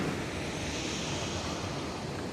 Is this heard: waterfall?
yes